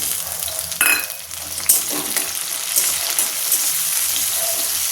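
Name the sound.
chopped tomatoes frying and stirred with onions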